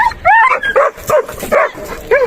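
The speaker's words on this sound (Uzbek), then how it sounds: "10 oylik kuchuk akalar" A ten-month-old puppy barks and whimpers up close, a string of sharp yips and whiny cries in an uneven rhythm, loud and clear with no voices over it.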